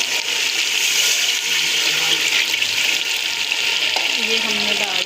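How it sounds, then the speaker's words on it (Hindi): Water is poured into a pan of fried tinda (round gourd) curry, with a loud continuous rushing splash and sizzle that fills the whole stretch, steady and close, with no voices. "तो अब हमें इसमें जितनी ग्रेवी चाहिए पानी डालेंगे"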